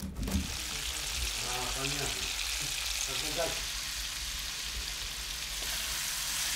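Carp fillets fry with onion in hot oil at a lakeside fishermen's camp by Lake Balkhash, a steady dense sizzle that continues throughout while a person speaks briefly over it near the start.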